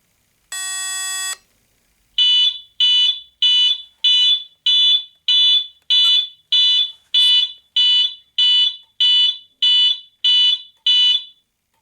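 A fire alarm panel sounds during a system test, giving one long tone and then a steady series of loud, evenly spaced electronic beeps that repeat about every half second.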